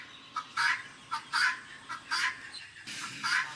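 A turkey gobbles in repeated rapid bursts, about five rattling calls spaced roughly half a second apart, fairly close and alone over a low background.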